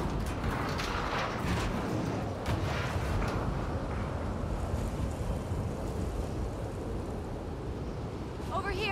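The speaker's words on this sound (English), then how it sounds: "It's pretty windy." Wind blows across an outdoor mountain patrol scene in The Last of Us Part II, a steady broad rushing roar that stays loud and constant throughout, with a brief tonal sound near the end.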